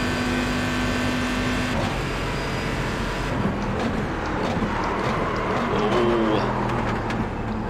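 A GT1 race car engine in iRacing drones steadily down the home straight with a loud, continuous tone that shifts pitch as it revs, and a voice talks over it.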